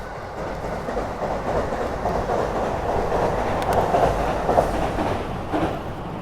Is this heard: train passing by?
yes